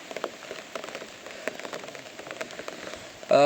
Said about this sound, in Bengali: হঠাৎ করে বৃষ্টি আসছে